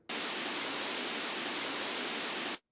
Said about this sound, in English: So let's play the white noise again.